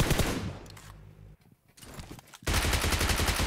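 Rapid bursts of gunfire in the PUBG Mobile battle royale game, loud and dense at the start and again after a short lull, with scattered quieter shots in between.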